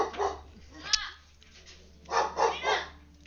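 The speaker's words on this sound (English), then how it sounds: "My dog does not like the washing machine." A pet dog barks and yips in a few short bursts at a running washing machine indoors, somewhat distant, mixed with background chatter and a low hum.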